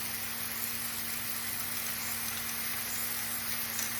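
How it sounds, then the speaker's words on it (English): Lamb pieces seasoned with kosher salt and pepper sizzle steadily in a pan beside pushed-aside onions, a soft, even frying hiss with a faint low hum underneath and no talking. "I'm gonna go ahead and add that lamb in"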